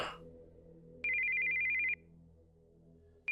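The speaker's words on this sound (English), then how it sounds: "we heard the sound of an incoming call on a cell phone" A cell phone ringtone for an incoming call in the video game Steins;Gate 0 sounds as a steady electronic tone that rings once for about a second, stops, then starts again, over a quiet low background hum.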